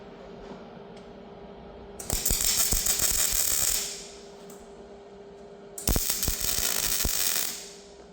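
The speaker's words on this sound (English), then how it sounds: "Let's get some welds in this bad boy" Welding on an old trolley frame being turned into a push bike trailer, two loud crackling, sputtering bursts of a few seconds each over a steady workshop hum.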